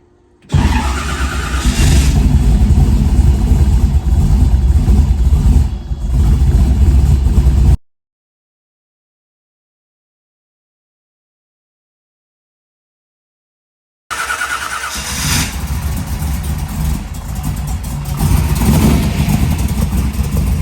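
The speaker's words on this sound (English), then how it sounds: "I'm warming it up right now because we're going to go on a chip with this thing" A Chevy C10 truck engine warms up and revs loudly and continuously, cuts out to silence for several seconds, then roars back with steady revving.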